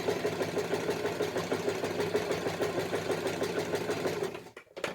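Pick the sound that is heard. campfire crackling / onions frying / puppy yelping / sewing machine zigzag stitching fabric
sewing machine zigzag stitching fabric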